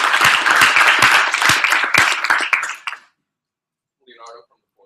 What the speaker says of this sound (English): Can we give Alex a round of applause?